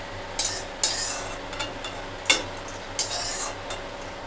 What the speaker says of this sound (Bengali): তো আমার বড়ি ভাজা হয়ে গেছে, আমি এখন বড়িগুলো তুলে নিচ্ছি